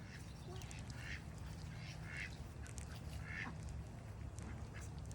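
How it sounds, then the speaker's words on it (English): Ducks quack in several short nasal bursts over a constant low background rumble outdoors. The quacks are spaced irregularly and sound moderately distant. "Hey, ducks."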